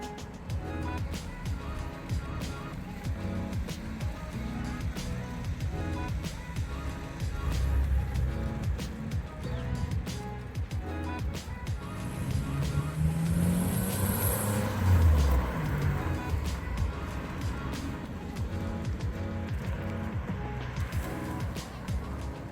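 A 1995 Mitsubishi 3000GT drives along with a steady engine drone and road noise from inside the cabin, swelling slightly as it accelerates midway.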